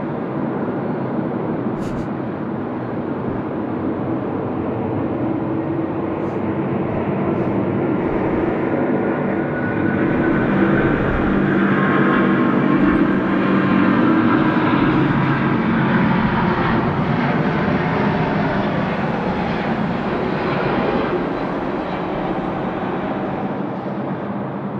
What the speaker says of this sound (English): This is a nice aircraft, the A350.